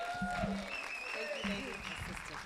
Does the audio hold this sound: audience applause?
yes